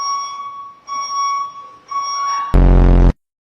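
A reversing beep sounds as three steady, evenly spaced high electronic tones, each lasting almost a second. A short, loud burst of broadband noise cuts in after them and then stops.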